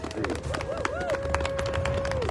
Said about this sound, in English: you hear the crowd cheering on